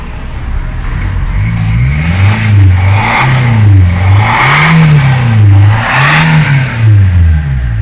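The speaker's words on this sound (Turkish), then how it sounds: "Ara gaz ve" A car engine revving repeatedly in rising and falling waves, loud and close, with a steady rhythm of throttle blips and no talk.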